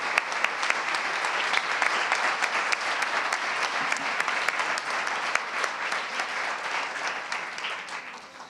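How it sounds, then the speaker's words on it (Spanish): A seminar audience gives visiting school groups a long, full round of applause, loud and steady before thinning slightly at the end. "pedimos un aplauso especial para todas"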